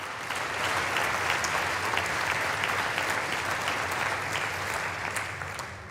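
Sustained applause from a large audience at a joint session of the US Congress, steady and dense clapping for several seconds before it begins to taper off.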